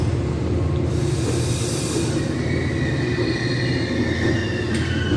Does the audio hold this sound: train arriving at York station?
yes